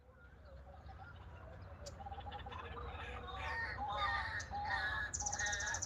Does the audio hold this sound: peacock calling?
yes